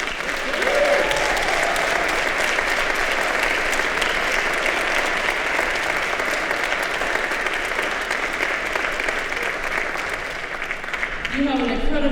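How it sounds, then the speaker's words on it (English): Audience at a speech applauding steadily for about twelve seconds, a dense, loud wash of clapping from many hands that holds level before tapering slightly near the end, with a voice faintly under it. "I don't think it's a problem to applaud her again."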